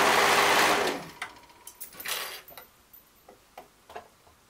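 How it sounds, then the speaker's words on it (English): A sewing machine with a cutting knife stitches dress fabric in a fast whirring run lasting about a second, then stops, followed by scattered mechanical clicks and taps as the material is handled. "Then put my needle through it as I'm gonna sew over it"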